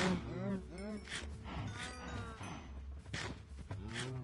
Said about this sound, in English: So many cows.